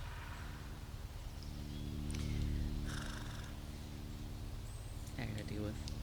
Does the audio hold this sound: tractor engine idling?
no